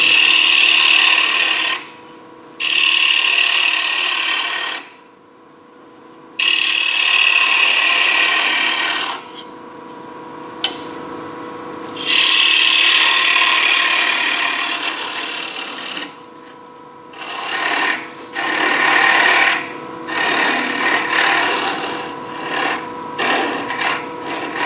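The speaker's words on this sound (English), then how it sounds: "get a round nose scraper. Take that little edge off of there and make it round so that the salt sits in a curve" A round nose scraper cutting a wooden saltcellar spinning on a lathe, a loud sustained scraping whir broken by several short pauses as the tool is lifted and reapplied.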